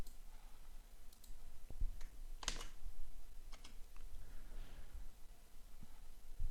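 Sparse clicking keystrokes on a computer keyboard, a few scattered taps and one brief burst of quick presses, fairly close and quiet over a faint room hiss.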